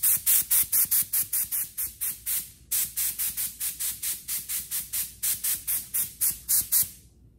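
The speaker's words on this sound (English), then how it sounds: "Spray a couple coats of inner coat down to try to kind of lock that down in place" Spray gun laying down intercoat clear on a galaxy-themed paint job, firing about twenty-five short, even hissing bursts in a steady rhythm with a brief pause partway through, close and alone.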